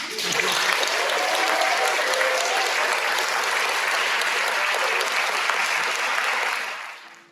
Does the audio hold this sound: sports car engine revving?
no